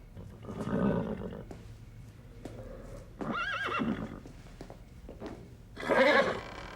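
A cartoon horse neighs and whinnies in three separate bursts, loud and close, with quieter breathy snorts and a low background hum between the calls.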